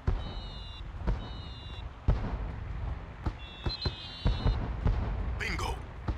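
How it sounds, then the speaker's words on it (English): Fireworks going off close by in the PS2 game Mission: Impossible - Operation Surma, a run of sharp cracks and pops at irregular intervals with whistling crackle near the end, under quiet game ambience. "I'll stand right next to the fireworks."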